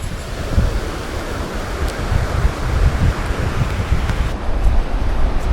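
Ocean surf rolls and breaks on a beach in El Salvador while wind buffets the microphone, a steady, loud roar of waves and gusts with no voices.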